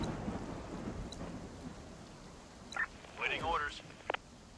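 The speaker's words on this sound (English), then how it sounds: "During the storm." Thunderstorm ambience in the video game Infection Free Zone, a steady wash of rain with low rumbling thunder early on, then a few brief higher chirps and tones near the end.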